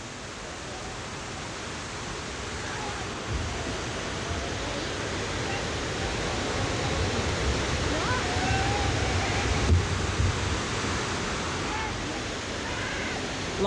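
Water rushes steadily over a river weir during a raft race, a constant broad roar close to the microphone, with a commentator talking faintly beneath it.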